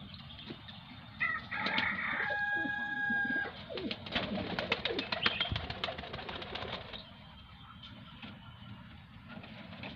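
Several pigeons coo nearby in a steady, layered murmur of soft throaty calls that continues for the whole stretch, with some louder bursts in the middle.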